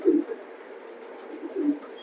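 A racing pigeon, a hen, coos close by while shown for sale, two soft low throaty coos at the start and near the end with quiet between.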